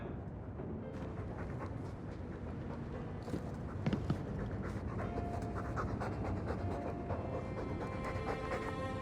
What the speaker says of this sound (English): All that noisy dog breath, day in, day out, make him stop.